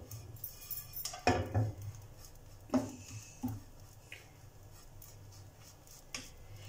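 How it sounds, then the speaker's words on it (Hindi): A spoon stirs homemade bread crumbs drying in a pan, giving a few sparse, light metallic clinks and scrapes against the pan, fairly quiet, with long pauses of soft background between them. "चम्मच की मदद से इसको हिलाते जाना है"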